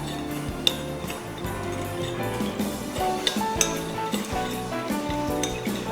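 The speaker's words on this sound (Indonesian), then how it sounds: "Aduk-aduk dulu." A spoon stirs a rose tea latte in a cup, with repeated clinks and scraping against the glass over a busy kitchen background, continuous and fairly loud.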